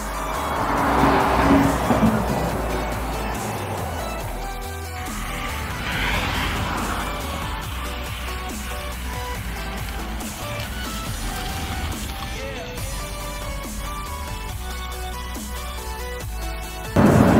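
BMW rally car taken out for a test lap, engine revving and droning over a long stretch with tire squeal and skidding, loud near the start and continuing steadily as it drives.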